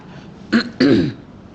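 Two quick, close throat clears, a short one followed by a longer raspy one, in an otherwise quiet moment.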